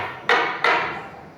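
A wooden gavel strikes twice to close a plenary session of an organisational meeting, two loud, close knocks about a third of a second apart, each ringing briefly in a reverberant hall.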